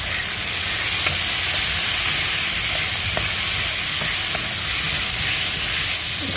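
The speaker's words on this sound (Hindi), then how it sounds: "इसको मैं 1 मिनट चलाऊँगी" Coriander powder and spices fry loudly in a pan with a steady, dense sizzle, stirred continuously, with faint scraping taps from the utensil.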